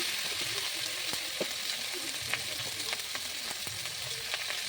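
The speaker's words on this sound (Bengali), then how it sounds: "আদা বাটা আর কাঁচা লঙ্কা আর একটা টমেটো। ভালো করে আমি একটু কষিয়ে নেব।" Ginger paste, green chili and tomato frying in a pan make a steady, close sizzle with scattered clicks of stirring and a faint voice briefly underneath.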